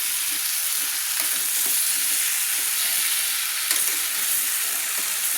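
Potatoes and pumpkin pieces fry with spices in a pan, a constant loud hiss of sizzling oil with faint scrapes of stirring running through it.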